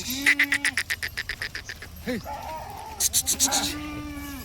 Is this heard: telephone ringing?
no